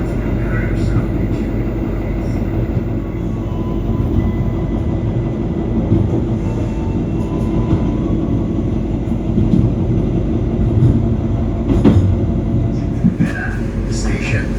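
The Jaka Tingkir passenger train runs on toward Jatinegara Station, with a constant low rumble and faint rail clatter from inside the carriage. A station announcement plays over it.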